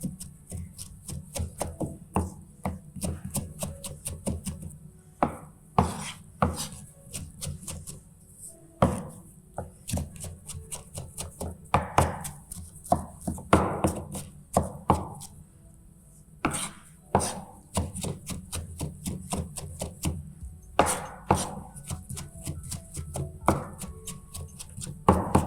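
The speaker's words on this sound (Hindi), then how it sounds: "ये हमने बारीक बिल्कुल चॉप कर लिया है" Knife chopping vegetables finely on a board for salsa, a steady run of quick, close, crisp taps that pauses briefly now and then and starts again, with no voice over it.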